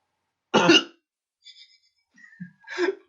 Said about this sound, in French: tu tousses à chaque fois